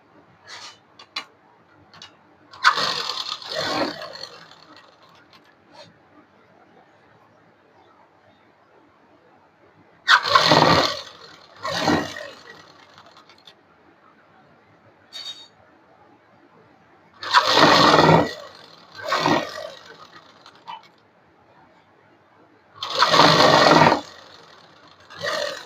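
A sewing machine runs a double seam on a designer suit in bursts: four or five loud whirring runs of a few seconds each, separated by quiet pauses with small ticks, close by.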